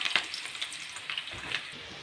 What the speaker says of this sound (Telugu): ఆయిల్ వేడైన తర్వాత ఉల్లిపాయ, పచ్చిమిరపకాయ అయితే వేసేస్తున్నాను.